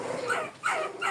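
A puppy barks three times in quick succession, high-pitched yips that are close and fairly loud, with no speech over them.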